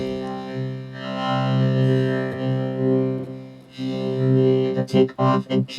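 A heavily processed vocoder synthetic voice tone at low speed setting drones in smeared, blurry swells, then breaks into choppy, stuttering bursts near the end.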